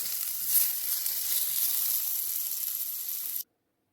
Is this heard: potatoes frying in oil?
yes